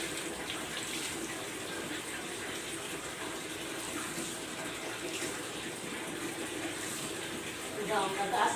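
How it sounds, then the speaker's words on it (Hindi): Clothes being washed by treading them underfoot in water produce steady, faint splashing and sloshing. Near the end it grows a little louder with rushing water. "तो इस तरीके से पैर से मलमल के धोने के बाद मैं पानी उसको अच्छे से निचोड़ दी हूँ।"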